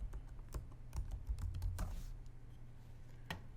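Someone types on a computer keyboard, with a close, quiet series of irregular clicking keystrokes in quick bursts and a final isolated key press after a pause, with no speech.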